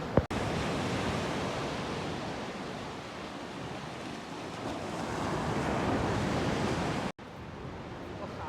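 Ocean surf breaks and washes steadily onto a beach in Portugal's Algarve, a broad, continuous roar close by with some wind on the microphone, cut by a brief dropout near the start and another late on.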